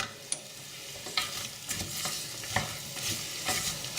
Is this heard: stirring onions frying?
yes